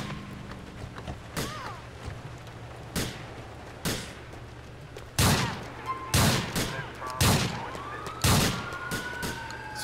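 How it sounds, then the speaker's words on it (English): Gunfire in the GTA police mod LCPDFR, set on a snowy street: a string of sharp, loud shots, some in rapid clusters, over constant engine hum and a wailing police siren, with no talk. "dispatch shots fired"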